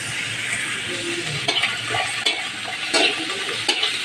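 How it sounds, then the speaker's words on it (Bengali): Onions frying with ginger and garlic paste, a close, steady sizzle with repeated scraping stirs of a spatula against the pan every second or so. "আদা রসুন বাটা দিয়ে দেবো"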